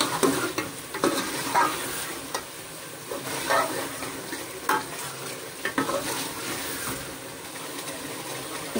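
Chicken stir-fried (bhuna) in a pan for Lahori chicken chole, a continuous moderate sizzle broken by repeated scraping stirs of a spoon, with no voices.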